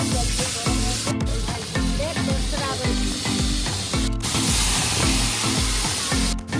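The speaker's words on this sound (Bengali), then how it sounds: "মাসি এখন মাছগুলো ভাজবে" Fish frying in a pan in a home kitchen, a loud, steady sizzle and spatter that runs throughout without a break.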